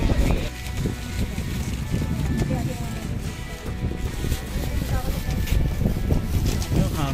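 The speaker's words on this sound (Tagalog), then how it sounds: "Yung hangin po." Strong wind buffeting the microphone with a constant low roar, while a person speaks over it in Filipino.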